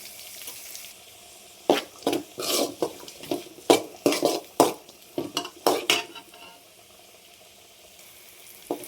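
Finely chopped onions fry in a pan for a home-style chicken gravy, with a quiet sizzle broken by a run of sharp, clattering stirs and scrapes in the middle, then settling back to a soft hiss.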